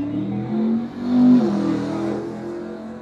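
A street-legal drag race car accelerates at a Long Island racetrack, its engine roaring loudly and close, rising in a couple of revving swells before settling into a sustained drone.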